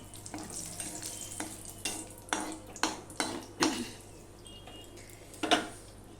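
Whole cardamom pods, cloves and cinnamon sizzle in a little hot oil in a kadai, with a soft steady crackle broken by several sharp spoon-and-pan clinks and stirring scrapes, close and fairly quiet.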